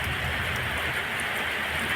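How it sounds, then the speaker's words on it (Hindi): Steady rain falls outdoors, a dense even hiss with soft patter all the way through, moderately close and with no voices. "और फिलहाल अभी तो मेरे इधर बारिश हो रहा है"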